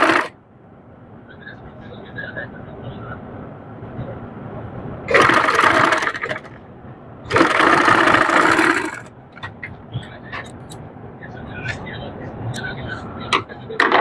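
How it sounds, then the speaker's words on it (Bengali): A sewing machine stitches a button cuff sleeve, whirring loudly in two bursts of a second or two each, with quieter room noise and faint clicks between them. "সেলাই করে জয়েন দিয়ে নিব।"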